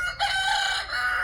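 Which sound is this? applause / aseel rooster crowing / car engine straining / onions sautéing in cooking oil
aseel rooster crowing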